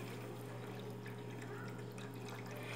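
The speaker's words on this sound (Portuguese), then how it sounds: "Eu vou acrescentar aqui agora a água." Water poured from a container into a pan holding onion, garlic, bay leaf and broth for a filet mignon sauce, a faint steady trickle over a low kitchen hum.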